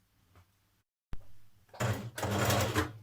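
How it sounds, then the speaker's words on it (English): Domestic sewing machine running a back seam on a New Look 6086 top, starting up after a brief pause and then motoring steadily in a loud, continuous whir of stitching. "Then we're going to stitch that back seam"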